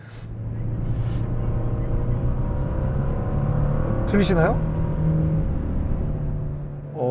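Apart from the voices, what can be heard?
twin-turbo car engine revving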